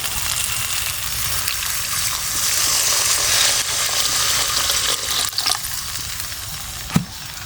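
Water pours into a pan of frying spiced egg curry with banana flower (mocha) and turmeric, a steady loud hiss and splash that rises around the middle and settles into a bubbling simmer, with a sharp clack near the end.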